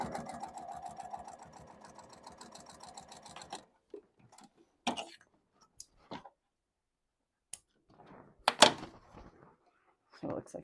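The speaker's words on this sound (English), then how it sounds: "I'm going to do my regular top stitch where I don't catch my lining" A sewing machine runs a fast, even top stitch through a cork backpack without catching the lining, a dense mechanical chatter for a few seconds before stopping; scattered clicks, handling noises and brief speech follow.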